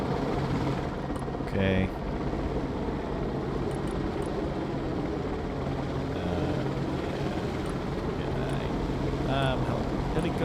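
Helicopter in the military strategy game Broken Arrow, a constant loud rotor-and-engine roar that fills the whole stretch without letup, with a short spoken word and faint radio chatter over it.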